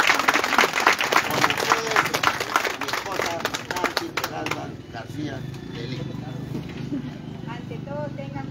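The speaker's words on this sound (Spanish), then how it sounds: "Aplausos para los mayorales." A crowd at a San Juan Bautista festival in Végueta, Huaura, claps loudly and raggedly at first, the applause thinning and fading after a few seconds as voices continue beneath.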